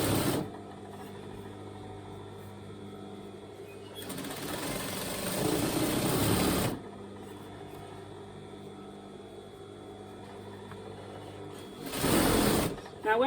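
An overlocker stitches fabric for pyjama bottoms in two bursts, a fast buzzing whir of a few seconds then a shorter run, close and loud against a quiet room hum.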